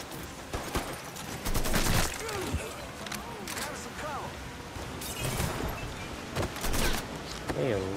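Gunfire erupts during a firefight in the video game Mafia III, where enemies favour shotguns. Repeated loud blasts and bursts come in clusters over a constant background of noise and game ambience.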